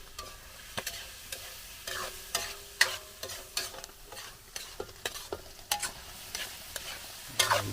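A spoon stirs sinabawang tanigue, a fish stew, in a pan, producing a steady series of quick scraping clinks against the metal over a faint simmering sizzle, close and fairly loud.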